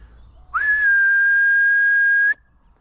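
A person outdoors gives one long, loud, steady whistle to call someone, rising sharply at the start, holding a single pitch for nearly two seconds, then cutting off against a quiet background.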